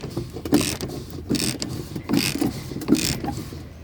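A hand-pumped garden sprayer is worked on plants, giving a repeated mechanical creak-and-hiss of pump strokes roughly every 0.8 seconds, close and fairly loud with no talk.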